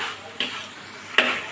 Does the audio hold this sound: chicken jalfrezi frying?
yes